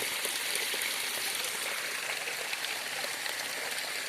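Water flowing steadily in a stream, a constant soft rushing hiss with fine splashy texture, moderately near and uninterrupted throughout.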